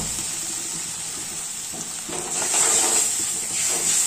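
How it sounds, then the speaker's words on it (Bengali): Masala spices with a splash of water frying in a pan, a steady loud sizzle and hiss that swells partway through and stays strong to the end, no talking. "মশলাটারে ভালো করে কষাই আনি"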